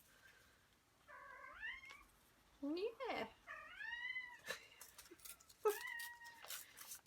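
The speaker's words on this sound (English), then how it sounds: "She is a very, very chatty cat." A chatty house cat meows repeatedly near the microphone in a quiet craft room, a string of drawn-out, rising calls with short pauses, and a person speaks briefly at the end.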